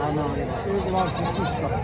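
A goat bleats at a busy goat market (bakra mandi), a wavering, nasal cry heard close and loud under constant chatter from people bargaining nearby.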